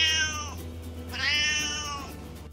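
Two drawn-out cat meows in quick succession, close and clear, with no other sounds.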